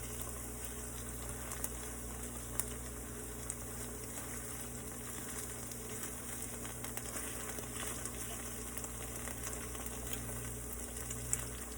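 Ribeye steaks fry on a stovetop, a steady, even sizzle with faint crackles throughout, quiet and continuous with no talking.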